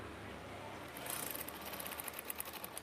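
A sewing machine runs close by stitching curtain fabric, its motor whirring and then settling into a fast, rhythmic needle patter over the second half.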